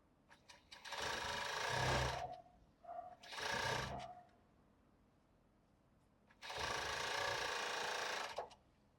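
A sewing machine stitches a tulle and lace bra in three close, loud runs of fast, even whirring, separated by short pauses.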